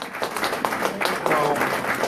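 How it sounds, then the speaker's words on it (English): A crowd applauds with steady, dense clapping that holds at an even level throughout, with some voices mixed in. "Give him a round of applause"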